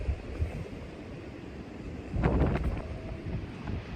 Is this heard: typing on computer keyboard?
no